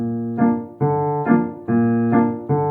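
Low piano notes roll out as repeating broken chords, a steady pattern of struck tones in even phrases, clear and close with nothing else playing.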